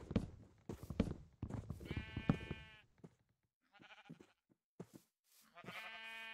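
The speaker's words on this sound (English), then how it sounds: "Got some sheep over there." Sheep in a crafting video game bleat several times in short, clear calls, with brief pauses between them and a quiet stretch in the middle.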